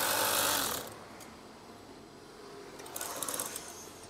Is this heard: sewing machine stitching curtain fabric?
yes